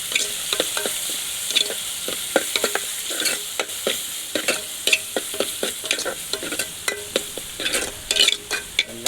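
Curry leaves and green chillies fry and crackle in hot oil for a fish curry, with frequent sharp pops and repeated scraping stirs against the pan, close and alone without talk.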